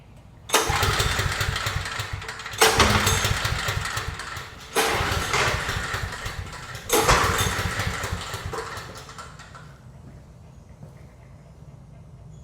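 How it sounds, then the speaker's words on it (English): A Briggs and Stratton 5500 watt generator is cranked four times in quick succession. Each loud, rough burst lasts about two seconds and stops without catching, then a quieter mechanical rumble lingers. "We're gonna crank up the generator to see if it works."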